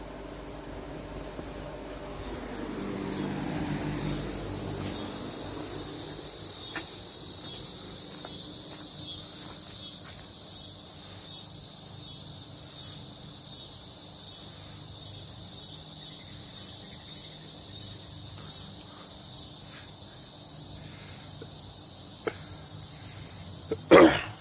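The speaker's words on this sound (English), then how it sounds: "Damn it, cicadas, I get it. You're loud and horny." Loud cicadas drone outdoors in one continuous high, buzzing wall of sound that holds steady for more than twenty seconds, with a short louder burst right at the end.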